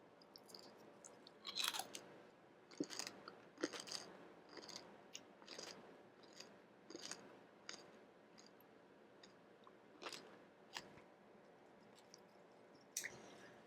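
Crisp crunching bites into crispy pork roast skin and chewing close to the microphone, sharp cracks spaced irregularly over about thirteen seconds in a quiet room.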